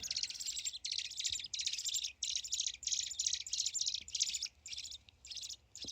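Hungry baby birds being hand-fed give a steady run of high, rapid chirping bursts, repeated in quick rhythmic clusters at a fairly faint, close level.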